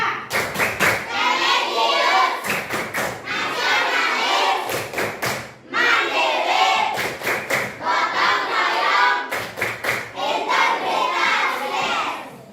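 A group of children at school performs a rhythmic clapping routine, tepuk PPK, with loud patterned claps and thumps alternating with chanted voices.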